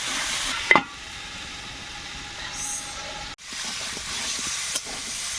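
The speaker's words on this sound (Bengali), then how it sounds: "ভালো করে একদম নেড়ে ছেড়ে কষিয়ে নিয়েছি লাল লাল হয়ে গেছে" Malabar spinach (pui shak) with turmeric and salt stir-frying in a pan, giving a steady close sizzling hiss broken by a sharp clatter of stirring early on and a few softer scrapes later.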